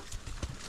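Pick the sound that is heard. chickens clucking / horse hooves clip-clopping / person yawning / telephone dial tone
horse hooves clip-clopping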